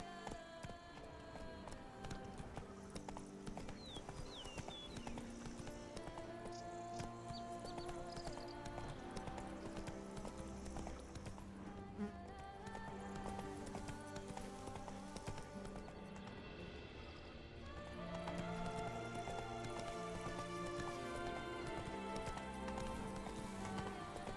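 Roach, Geralt's horse in The Witcher 3, clip-clops at a steady trot with repeated hoofbeats and lets out a whinny, all set against a continuous game soundtrack of music and ambience.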